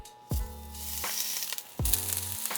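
Mushrooms hit hot oil with sharp sizzles, two distinct bursts of frying crackle close by, with a steady hiss continuing between them.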